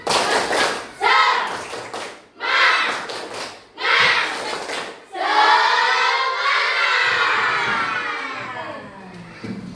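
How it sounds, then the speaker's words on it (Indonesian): A class of students does a rhythmic spirit clap in a school classroom, with four short bursts of group clapping and shouting, then a longer sustained burst of claps and voices. "Tepuk semangat."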